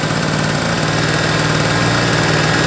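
A petrol generator engine runs at a steady, loud idle with a constant rumbling drone and mechanical vibration, close by and without talk.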